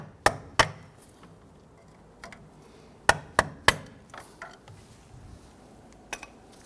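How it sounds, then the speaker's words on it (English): Sharp metallic taps of a hammer on a screwdriver handle, knocking a band clamp off a steering rack bellows boot on a 2005-2021 Nissan Frontier; a pair of close strikes, a quick burst of three, then scattered lighter knocks in a quiet garage. "I'm gonna go ahead and bonk the handle here and pop that band clamp right off."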